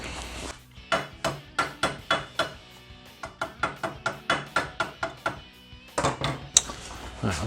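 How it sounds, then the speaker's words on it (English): A hammer strikes a workpiece while someone builds homemade workout equipment from parts, landing about twenty sharp, evenly paced blows in a steady run, then pausing before a few heavier hits. "A hammer."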